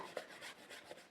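Pencil lines being erased from paper during a flower drawing, a soft, quiet rubbing that swells and fades in short repeated strokes, with no voices.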